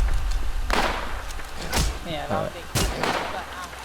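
Several sharp gunshots in the zombie survival game NewZ ring out at irregular moments over continuous background game noise, with a voice talking between them.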